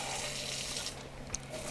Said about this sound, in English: So this is just a nice lukewarm jet of water on my orchids.